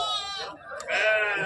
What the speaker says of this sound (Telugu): చాలా పెద్ద కట్ట. ఎన్ని గొర్రెలు ఇవి?